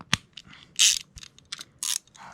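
A ratchet with a 7/16 socket loosens bolts on a Lawnboy 10323 Duraforce mower engine, giving short bursts of quick metallic clicking separated by brief pauses, close and fairly crisp.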